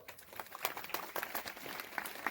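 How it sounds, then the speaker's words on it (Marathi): An audience at a temple festival for Mahashivratri at Shri Nilkantheshwar temple in Yavat Station applauds the Maharaj, a faint, distant patter of many clapping hands that continues throughout. "महाराजांसाठी टाळ्या वाजवा."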